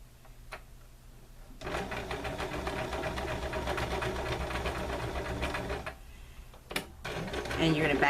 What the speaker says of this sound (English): And you're going to back stitch again for a little bit